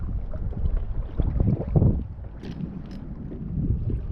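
Wind gusts rush across open water during a squid fishing session, a close, blustery buffeting roar with low rumble that swells and eases in a continuous stream, without talking.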